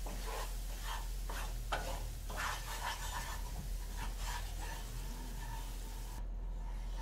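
Flour cooks in hot oil for a roux while being stirred, a close sizzling hiss with repeated scraping strokes in the first half that ease off toward the end, no talking.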